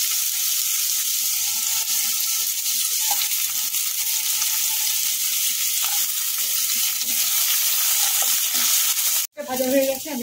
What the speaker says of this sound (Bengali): পেঁয়াজটা একটু ব্রাউন করে আগে ভেজে নেব।